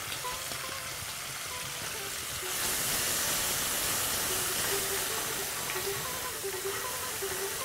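Garlic is tipped into hot oil in a frying pan while a fish curry cooks, a steady sizzle that swells into louder, brighter frying hiss partway through and continues without speech.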